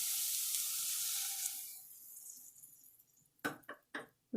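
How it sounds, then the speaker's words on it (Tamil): Half a cup of water poured into vegetables frying in a pan for a quinoa pulao, starting with a loud sizzling hiss that gradually fades, then a few short clatters or stirring knocks near the end, no talking. "இது நல்லா வதங்கிறதுக்கு ஒரு 1/2 கப்பு தண்ணி ஊற்றிடலாம்"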